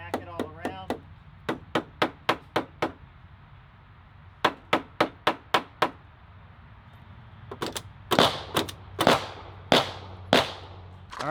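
Pistol fitted with an Osight red dot sight smacked repeatedly against a table, sharp loud close knocks in quick bursts of several hits, with pauses between groups and a faster scattered run near the end.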